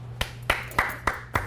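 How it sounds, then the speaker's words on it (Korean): Five evenly spaced hand claps at a steady rhythm, crisp and close, over a low steady hum. "박수 한번 드리고"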